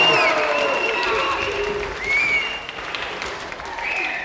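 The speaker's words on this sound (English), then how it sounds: "And a round of applause again for Tony Rice!" A television studio audience at a video game show applauds and cheers, dense sustained clapping with scattered whoops and whistles across the whole stretch.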